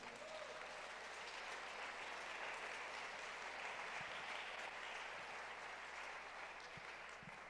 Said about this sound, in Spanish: Dile un aplauso a Dios por la vida de los servidores